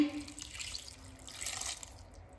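A little water trickles into ground garam masala spice mix in a grinder jar, a short light pour with soft splashing, fairly quiet.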